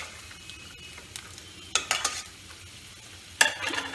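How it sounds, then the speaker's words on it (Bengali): Raw peanuts frying and being stirred in a pan for a pumpkin curry, with a low steady sizzle broken by two louder bursts of scraping and clatter, no voices present. "আমার কাঁচা বাদাম ভাজা হয়ে গেছে, আমি তুলে নেব।"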